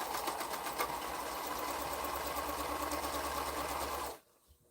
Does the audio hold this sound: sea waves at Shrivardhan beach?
no